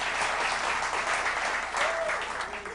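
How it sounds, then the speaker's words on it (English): Steady applause from a television studio audience, a continuous wash of clapping that holds level for a few seconds before easing slightly at the end. "I don't think they really deserve applause"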